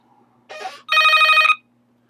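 A telephone bell rings in two bursts, a short rattling ring followed by a longer, louder steady ring, in a quiet room with no talking.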